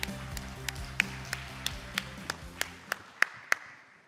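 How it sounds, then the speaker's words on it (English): Slow, evenly spaced single claps at a panel discussion, about a dozen sharp hand strikes in a steady rhythm, fairly faint over a low hum. "Let's give them a round of applause to start the panel discussion."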